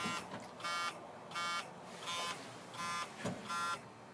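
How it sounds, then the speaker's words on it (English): A seatbelt buzzer wired to the turn signal of a 1963 GMC van sounds in about six evenly spaced, harsh electric bursts, each roughly half a second long, following the flasher rhythm against a quiet interior. "Every time that little green light flashes, that turn signal buzzer comes on."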